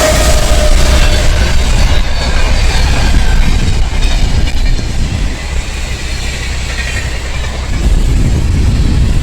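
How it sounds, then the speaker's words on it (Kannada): A train passes through Doddaballapura railway station with a loud, continuous rumble and rhythmic wheel clatter, close by and sustained from start to finish with no talk. "ಈಗ ಜಸ್ಟ್ ಟ್ರೈನ್ ಹೋಯ್ತವು."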